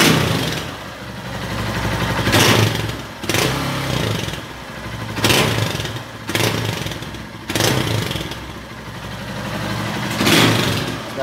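A cold Honda Titan 150 Mix motorcycle idles with an aftermarket exhaust popper, its engine rumbling steadily while sharp exhaust pops and crackles burst out at irregular intervals, close and loud.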